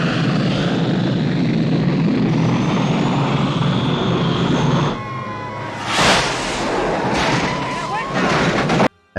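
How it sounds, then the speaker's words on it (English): A small jet taking off in a James Bond film's pre-title action sequence: a loud, dense engine roar fills the first half, then gives way to whooshing passes and sharper bursts, with talk running over the top. "he takes off in this little jet."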